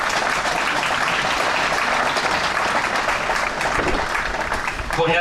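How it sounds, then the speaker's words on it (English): A crowd at the Fleetwood Waterloo men's championship finals day applauds the organising team, loud and continuous clapping that fades out near the end as a voice begins speaking. "So if everyone just give him a round of applause for the team first."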